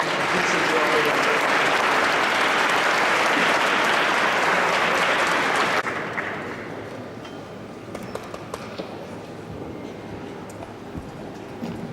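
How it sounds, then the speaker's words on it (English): A large audience at a 2018 charity foundation celebrity gala gives loud, sustained applause that fills the room for about six seconds, then fades to scattered claps and quiet murmuring. "Let's have another round of applause for Ramon and Rosie."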